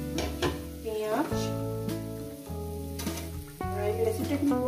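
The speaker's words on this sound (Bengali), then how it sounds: "এই একসঙ্গে ভাজা হবে, মাছের তেলও ভাজা হবে" Potatoes and onion fry together in fish oil in a pan for a Bengali fish-oil chorchori, giving a steady sizzle broken by stirring scrapes against a tonal background.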